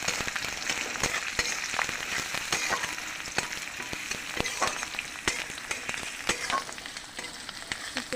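Chopped onions frying in hot oil for egg korma, a quiet, continuous sizzle dotted with small sharp crackles and pops, steady throughout with no voices.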